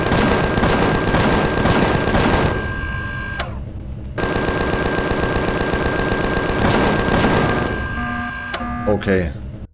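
Rapid automatic gunfire in Empyrion Galactic Survival, loud and close, bursts of dense repeated shots with a brief pause midway and a harsh electronic tone under the volleys.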